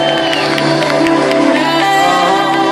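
A live concert crowd claps and cheers loudly for the band during a show, a dense, continuous wall of applause and whoops close by.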